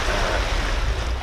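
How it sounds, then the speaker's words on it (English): Calm ocean waves on the North Shore give a steady, broad surf wash with wind rushing over the microphone and no voices. "Today, the waves are pretty calm"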